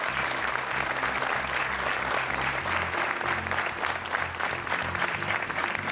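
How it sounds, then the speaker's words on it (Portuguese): Television studio audience on a game show gives sustained, even applause to welcome a guest named Sofia, a thick continuous wash of clapping with a low musical hum underneath. "Portanto, um aplauso para a Sofia."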